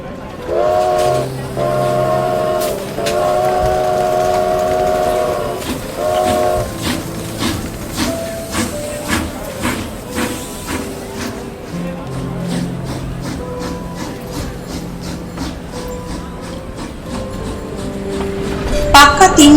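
A train sound effect in a Bengali audio story: long horn or whistle tones ring out first, then rhythmic chugging and clattering of a train getting underway builds and continues, loud and close, with a little narration mixed in.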